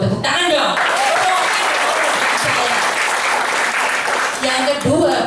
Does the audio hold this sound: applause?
yes